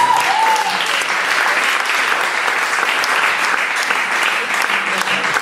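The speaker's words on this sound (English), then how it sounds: "why don't you everybody give Michelle a big round of applause" An audience at a magic show applauds for a participant, dense and loud continuous clapping filling the whole stretch, with a brief voice at the very start.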